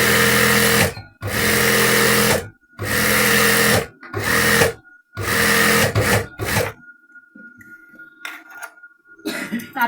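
A sewing machine stitches the border of a salwar in five or six loud bursts of running, separated by short pauses, then stops and gives way to quiet handling noises.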